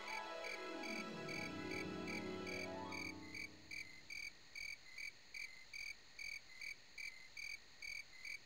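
Faint crickets chirp in a steady pulsing rhythm of evenly spaced trills, following an earlier falling tonal sweep, with no talking.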